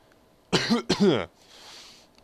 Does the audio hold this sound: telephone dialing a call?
no